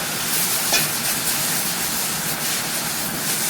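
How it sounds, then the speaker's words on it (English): Soy sauce poured around the hot edge of a wok of fried rice hisses and sizzles in a steady, close, fairly loud wash of crackling noise, with no talking. "You want to kind of pour it around the outside of that wok. Let it kind of sizzle a bit."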